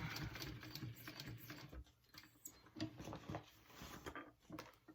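A sewing machine stitches the handles onto a tote bag, its quiet, uneven run of needle chatter broken by short pauses and starts, close by and fairly soft.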